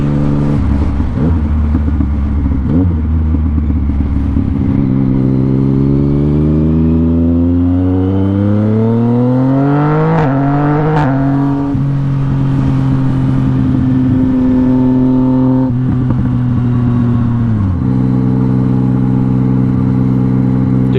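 Motorcycle cruising on a road ride, its engine droning loud and close with rising and falling pitch through gear changes, wind rushing steadily beneath.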